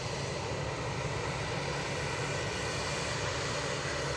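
A Pegasus Airbus A320neo arriving at Edinburgh Airport produces a steady, broad jet engine roar. It stays at an even, moderate level throughout with no voices.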